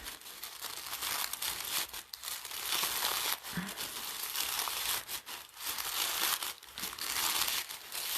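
Tissue paper peeled up and crinkled while shaping a craft flower, a steady close rustling with brief pauses and soft tearing accents throughout.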